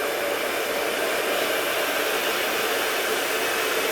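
A hair dryer blows heat onto a vinyl decal stuck to plastic, giving a loud, constant close-up whoosh that stays even from start to finish, with no talk.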